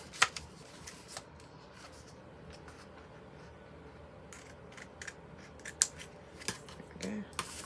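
Scissors snip through paper trimmed over a magnet on a handmade junk journal folio: a handful of short, crisp cuts spaced irregularly against a quiet, faintly rustling background, close and soft.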